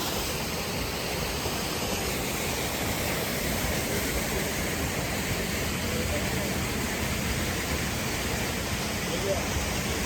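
A mountain waterfall on the Har Ki Dun trek pours with a constant, broad rushing roar that fills the scene at steady loudness for the whole stretch, with no pauses or changes.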